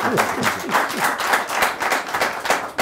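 Audience applause at a live talk by a pilot about flight simulators, a steady patter of clapping hands with a voice briefly heard over it.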